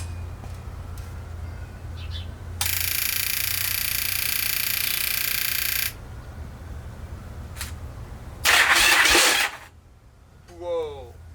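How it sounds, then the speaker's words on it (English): Starter cranking over the engine of an abandoned Yamaha Virago XV1100 motorcycle, a loud steady churning burst of about three seconds, then a second shorter harsher grinding crank. "The gears did grind a little bit, but it turned the thing over."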